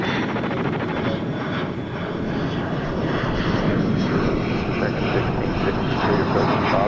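An American Eagle regional airliner departing DFW Airport at night produces a loud, sustained engine roar that swells slightly as it climbs, heard alone and fairly close.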